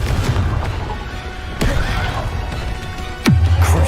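Confringo blasting spell explosions in Hogwarts Legacy, two or three sharp booming bursts over a steady background of game noise, close and fairly loud.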